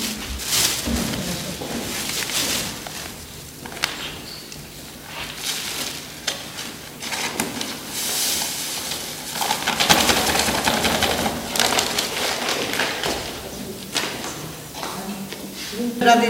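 Electric dough kneading machine mixing flour for Portuguese São Sebastião buns, a steady churning and whirring rumble that runs continuously for the whole stretch while someone talks over it.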